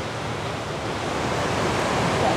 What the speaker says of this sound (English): Well, I can hear the waterfall from here.